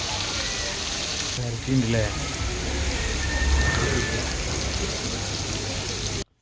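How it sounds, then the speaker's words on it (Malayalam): Heavy rain pours steadily outside a home kitchen, a dense continuous hiss that fills the whole stretch, with faint voices briefly under it. "പുറത്താണെങ്കിൽ നല്ല ഗംഭീര മഴ കേട്ടോ"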